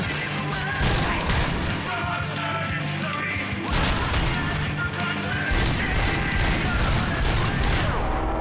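Gunfire and destruction in the game RoboCop: Rogue City: rapid, loud volleys of shots with crashing debris and impacts roll on continuously, close and dense throughout, with a voice occasionally over them.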